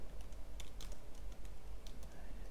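Computer keyboard typing while writing code, a steady run of soft, close clicks and clacks in irregular bursts over a low background hum, with no voices.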